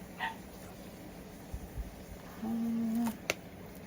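A small puppy next door yips and whimpers in short, faint, distant bursts, including one sustained high whine, over a quiet indoor background.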